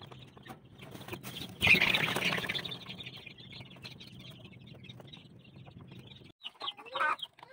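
Young chicks in a heated brooding cage on a chicken farm, a soft, distant chorus of chirps and peeps with a brief burst of wing flapping and scuffling, then quieter cheeping.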